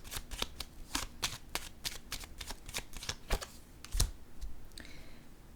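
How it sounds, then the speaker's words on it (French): Tarot-style cards are drawn from a deck and laid down onto the coffin card, making a rapid series of close, crisp flicks and snaps that continue in an irregular rhythm. "je ressens le besoin de déposer une carte sur le cercueil."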